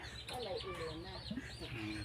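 Chickens clucking and calling around a farmyard while water is added, with overlapping bird calls at moderate distance and a person talking over them throughout.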